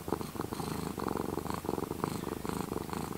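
A cuddly cat purrs steadily while snuggled up under a blanket, a close, continuous rumbling purr that rises and falls in even breaths, with no voices.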